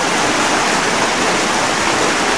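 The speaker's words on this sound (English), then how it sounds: "I'm walking beside the quiet stream, but in truth, it's quite noisy and cheerful and bubbly." A noisy, bubbling stream rushes continuously close by, a loud even wash of churning water with no breaks or voices.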